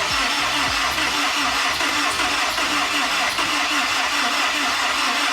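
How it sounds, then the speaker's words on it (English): A Honda S2000 with a brand-new battery cranks steadily but does not catch, its starter churning in a loud, continuous, even rhythm up close for several seconds. "Let's give it a crank and see if this thing will fire right up."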